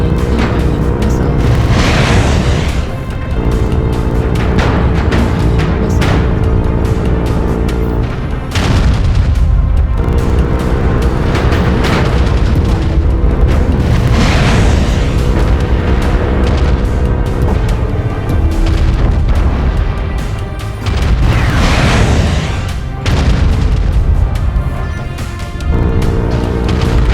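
Incoming missile strikes in the mech combat game MechWarrior Online: loud, continuous booming explosions and heavy rumbling impacts, repeated blasts swelling and fading over a dense roar of battle.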